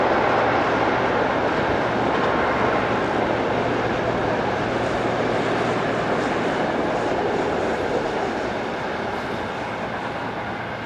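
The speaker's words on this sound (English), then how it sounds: "This is train EC84 from Roma to Munchen." Passenger train EC84, running from Roma to München near Brennero, rolls past as a steady, loud, continuous rumble and roar that holds for about eleven seconds and eases slightly toward the end, with no voices.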